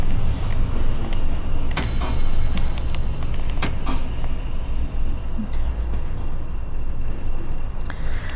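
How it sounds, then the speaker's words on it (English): A locomotive in the Train Sim World game rumbles steadily as it slows to stop at a station, with a few sharp brake clanks and metallic ticks over the constant engine drone, and no voices. "And slow down the locomotive for stationing."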